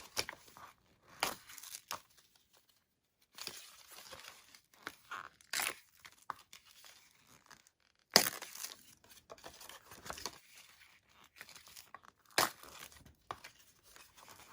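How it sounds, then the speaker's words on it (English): Folded craft paper for Valentine cards being torn apart along its creases, a few sharp close ripping bursts separated by quiet pauses, with light crinkling in between. "fold the opposite way that these are all folded, so that they tear apart easily"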